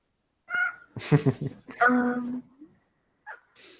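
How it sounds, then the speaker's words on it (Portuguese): House cat meowing and making a fuss, a few drawn-out, wavering meows and short squeaks close by, with brief quiet gaps and no one speaking over them. "Meu gato tá aqui fazendo escândalo."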